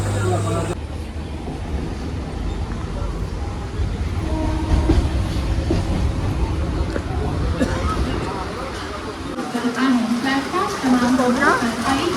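A Mumbai suburban local train bound for Ulhasnagar rumbles along steadily with rhythmic rail clatter, while people talk over the noise throughout.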